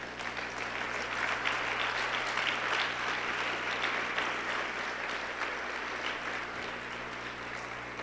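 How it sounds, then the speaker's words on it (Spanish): A church congregation at a Spanish-language worship service applauds steadily, a continuous wash of clapping over a low electrical hum, holding at an even level from start to finish. "Démosle un aplauso al Señor y ya seguimos."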